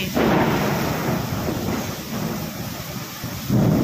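Heavy rain roars steadily throughout during a first Kalbaisakhi (nor'wester) storm in Kolkata, with deep rumbling thunder swelling at the start and again near the end, loud and close.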